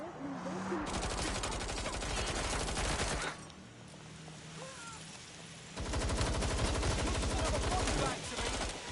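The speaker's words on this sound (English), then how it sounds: "I'm hit! Someone's shooting!" Bursts of rapid automatic gunfire in the video game Watch Dogs Legion, loud and dense, with a lull in the middle before another sustained volley, mixed with game sounds and faint voices.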